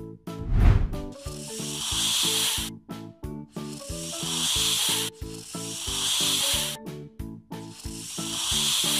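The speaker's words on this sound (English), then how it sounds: "Milk snake." Loud hissing bursts of a milk snake repeat in long breathy pulses over a rhythmic musical backing, stopping and restarting several times.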